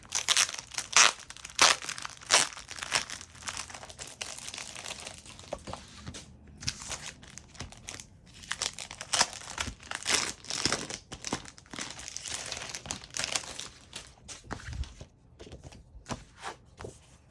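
Packaged Dollar Tree paper cardstock folders are being opened, their plastic wrapper giving sustained close crinkling and crackling in irregular bursts throughout, with no talking.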